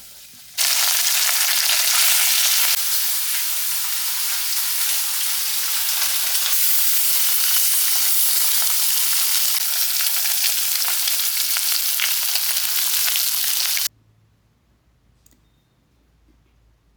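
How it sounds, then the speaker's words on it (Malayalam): Loud, steady sizzling and crackling of small fish frying in hot oil, continuous for most of the clip, then cutting off abruptly to near quiet. "ഇനി നമുക്ക് മീ വറക്കൽ"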